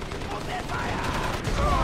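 Rapid gunfire from the video game Crysis crackles in a dense, continuous burst over steady battle noise, loud and close throughout.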